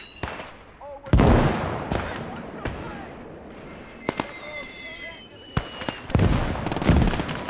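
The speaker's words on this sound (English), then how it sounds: "Germans are firing off of those MGs" Burst after burst of German machine gun and small-arms fire from a WWII battle video game, with sharp loud cracks and booms in sporadic clusters over battlefield noise, and voices beneath.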